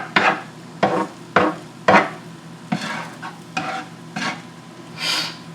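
Eggs cooking in a pan, heard as a series of rhythmic scraping and stirring strokes over a soft sizzle, close and fairly loud, about eight strokes with no talking.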